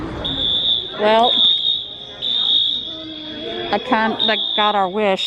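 Steady high-pitched fire alarm tone blares continuously at an aquarium, briefly dropping out twice, while people talk over it throughout.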